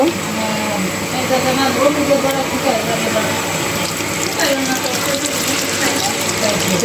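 Liquid is poured into boal fish curry cooking in a rice cooker, making a steady, close gushing and splashing that runs throughout.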